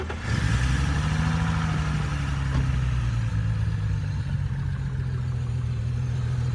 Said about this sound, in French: maintenant qu'on a réglé, écoutez, le ralenti est aux petits oignons